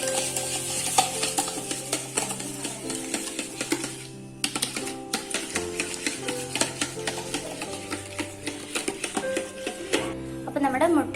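Five eggs and a cup of sugar being mixed together in a bowl, a busy run of quick clicking and scraping strokes that continues over steady background music, with a voice talking at times.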